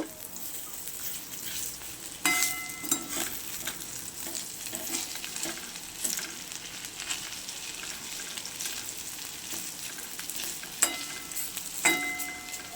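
Oil sizzles steadily as mushroom batter fritters fry, with occasional louder spatters and crackles rising over a continuous hiss.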